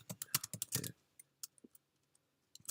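Rapid clicking on a laptop keyboard, a quick flurry of keystrokes followed by a few scattered, softer taps after a short pause, close and fairly quiet.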